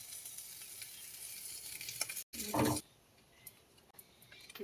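Oil sizzles in a kadai with some stirring, then a brief louder burst of hiss and a short quiet gap before a softer crackle carries on.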